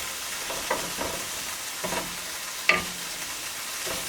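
A utensil scrapes browned bits from a pan while white wine and garlic sizzle. The frying hiss holds steady and loud throughout, with occasional short scraping strokes on top.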